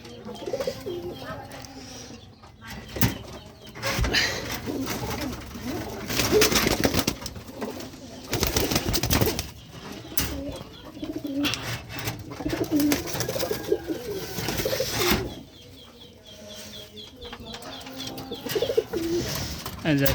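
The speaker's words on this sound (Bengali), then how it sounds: "আছে বানজা কবুতর" A pair of sky-blue banja pigeons, a male and a female, coo repeatedly at close range, their low rolling calls recurring through the stretch amid background clatter and occasional voices.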